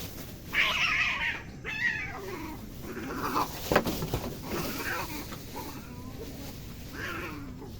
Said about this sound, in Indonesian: gue lagi syuting diganggu kucing berantem